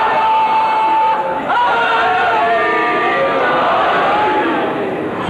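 A crowd at a religious majlis raises a loud collective chant, voices blending into a sustained roar that swells, dips briefly, then resumes near and full for several seconds.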